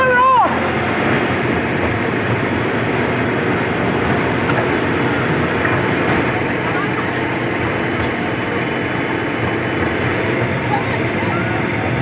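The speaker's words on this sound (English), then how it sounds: "the problem with being right in the front is it is very loud, being right next to the engine." A theme park train ride heard from the front seat, right next to the engine, with a loud, constant rumble and wind roar lasting the whole stretch without letting up.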